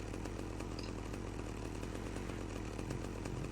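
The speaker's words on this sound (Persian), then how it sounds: "اره برقی هم به من دادم" A chainsaw in the GTA Vice City video game runs with a steady, buzzing engine drone that holds even and close throughout, with no pauses or talk.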